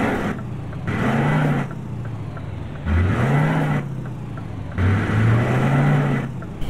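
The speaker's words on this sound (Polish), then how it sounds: "dodano nowe dźwięki silnika ciężarówki." Truck engine in the video game Euro Truck Simulator 2, rising and falling in repeated revving pulses with a deep rumbling drone, close and loud, with no talk.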